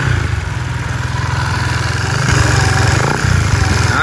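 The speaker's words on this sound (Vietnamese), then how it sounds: "mình sẽ nổ máy, tiếng máy cho anh em nghe thử" A Yamaha Winner motorcycle with its engine bored up to 165cc runs steadily after being started, a loud, close, even mechanical drone with a slight rise in intensity partway through.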